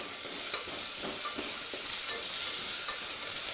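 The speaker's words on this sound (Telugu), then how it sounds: "ఇప్పుడు మనకు పోపు వేగిపోయింది కాబట్టి మనం ఇప్పుడు ఫస్ట్ క్యారెట్ వేసుకుందాం" Whole spices such as cumin and mustard seeds with curry leaves sizzle steadily in hot oil as a tempering for wheat rava semiya upma, with a few light stirring scrapes over the constant crackle.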